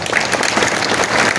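A large crowd at a Marathi history lecture bursts into dense, loud applause that holds steady without a break.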